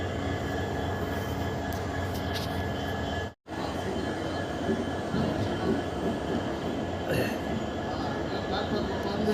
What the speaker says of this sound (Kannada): ರೈಲ್ ಹೋಯ್ತೀಗ ಅದು